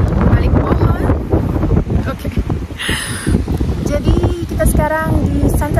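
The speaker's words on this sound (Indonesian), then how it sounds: "karena ini anginnya cukup kencang ya" Strong wind buffets the microphone outdoors near a marina on Ibiza, a loud continuous rumbling blast as someone talks through it.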